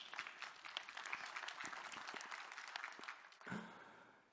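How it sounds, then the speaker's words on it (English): A conference audience applauds a talk, a few seconds of dense, steady clapping in a large room that fades out near the end. "So, yeah, you can clap."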